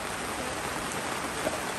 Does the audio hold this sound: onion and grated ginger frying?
no